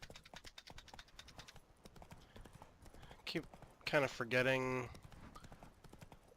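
Horse hooves clip-clop while riding in the video game The Witcher 3, a rhythmic clatter running under conversational talk, with a louder burst of game sounds midway.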